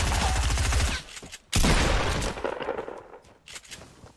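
Gunfire in the battle royale game Fortnite: loud, dense bursts of rapid shots that break off briefly, then resume and fade into scattered cracks, with no voices.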